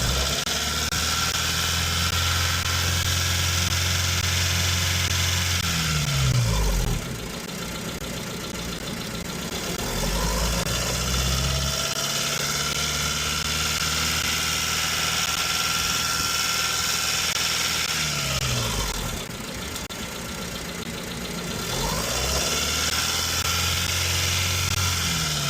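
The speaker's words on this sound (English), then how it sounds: "I give it a little gas." 1996 Honda Civic engine given a little gas, holding a steady loud idle with two smooth rises and falls in revs, close by and without talking.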